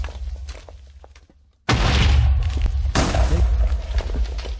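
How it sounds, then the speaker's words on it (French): A TNT explosion in the video game Minecraft: a quiet stretch, then a sudden loud booming blast followed by a second burst, heavy rumbling low end and crackling debris. "On va l'enregistrer, notre son de TNT."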